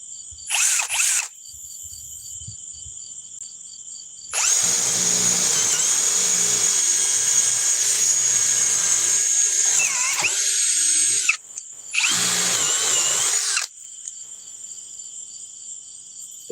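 A DeWalt cordless drill runs at speed 2 in three bursts, the longest lasting about seven seconds, with a loud high-pitched whine close by and quiet gaps between.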